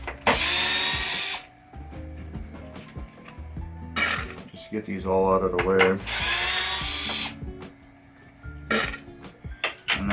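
A power drill spins out quarter-inch screws from a 1985 Williams Sorcerer pinball playfield, in several short whirring bursts with pauses between, close by, while someone talks.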